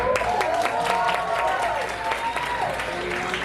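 An audience at a stand-up comedy show claps and cheers, a few seconds of mixed applause with raised voices and a cheering tone drifting over the clapping before it settles.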